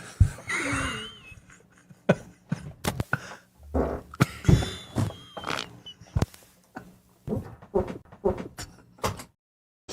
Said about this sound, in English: The triple fart at the end is just out of control.